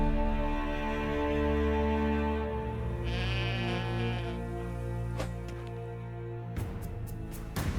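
Sheep and goats bleat in The Witcher 3, a short cluster of calls rising over a steady tonal game music bed, followed by a few sharp clicks near the end.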